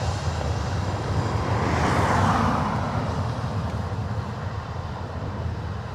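A passenger aircraft on short final to runway 28 left at Dublin Airport, a loud, steady engine roar that swells and sweeps past overhead, then holds as a broad rumble.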